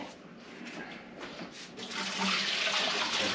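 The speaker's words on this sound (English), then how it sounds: "Dump these water out of the potatoes." Water from a pot of cooked potatoes rushes out in a loud, steady gush that swells after a second or two, like hot water poured into a sink.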